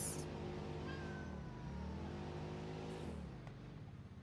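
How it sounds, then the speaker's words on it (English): Cats meow in long, drawn-out, wavering cries that rise and fall over a steady low droning hum, with the calls overlapping and fading near the end. "I hear you, kitties."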